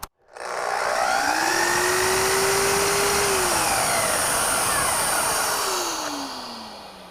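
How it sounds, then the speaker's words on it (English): A shop vacuum spins up together with a Festool miter saw, the motor whine sweeping upward, then holding loud and steady for several seconds before the pitch drops and winds down near the end. "you'll hear the vacuum kick on as well"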